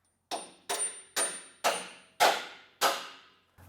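Hammer blows on the rear suspension of a Toyota 4Runner during a Camp Series rear arms and track bar install: six sharp metallic strikes at a steady, roughly half-second rhythm, close and loud, each ringing briefly.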